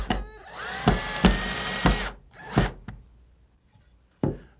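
A wood screw is driven into a board without a pilot hole, giving short, rough bursts of a power driver with sharp cracking snaps as the wood splits, close up and fairly loud.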